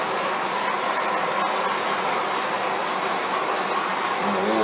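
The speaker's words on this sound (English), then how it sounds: "And a little heat with the torch to thin it out" A torch roars steadily as it heats epoxy to thin it, a loud, close, continuous broadband hiss with no breaks.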